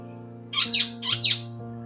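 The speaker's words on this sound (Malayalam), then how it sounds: "തത്തമ്മ കരയണ സൗണ്ട് ഉണ്ട് കേട്ടോ" Two harsh, high parrot squawks in quick succession over a steady low hum, close and clear.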